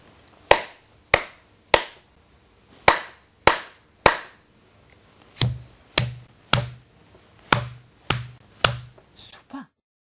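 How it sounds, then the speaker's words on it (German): Clapped rhythms in a school-readiness test: several short patterns of sharp hand claps, each demonstrated and then copied back, close and crisp with brief pauses between groups. "Und ich klatsche dir jetzt einfach mal was vor und du klatscht mir dann mal nach."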